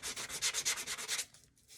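A sanding block lightly rubs over dried craft bunny ears in about ten quick, rhythmic back-and-forth strokes, close and soft, then stops and leaves a quiet pause.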